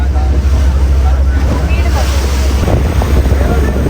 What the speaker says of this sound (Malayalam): Speed boat പോകണണ്ടില്ലേ?